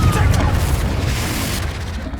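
Confringo blasting spell explosion in the video game Hogwarts Legacy, a loud sustained booming blast with crackling debris, dense and close, alongside game voices.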